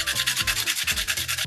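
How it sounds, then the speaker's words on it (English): Charcoal pencil rubbed back and forth on 120-grit sandpaper while being twisted, a steady rhythmic scratchy rasp of repeated close strokes, about seven passes, with no voices. "When you're sanding your pencil down, don't just hold it tight and then just go with one face of it"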